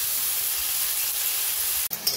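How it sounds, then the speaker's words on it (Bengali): Ivy gourd (kudri) frying in a pan with salt and turmeric gives a steady, close hiss of sizzling, broken by a brief clatter near the end as it is stirred. "এবার মাঝে মাঝে নাড়া দিয়ে 3-4 মিনিট মতো কুদরিগুলোকে ভাজা ভাজা করে নেব"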